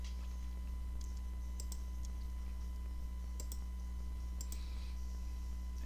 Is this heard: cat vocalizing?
no